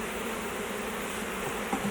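Honey bee swarm buzzing around a hive box, a steady, dense drone that holds evenly throughout with a faint bump near the end.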